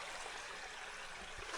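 Shallow stream water flowing steadily where a horse is led through it on a backcountry valley trail in New Zealand, a faint continuous rushing and trickling with no voices.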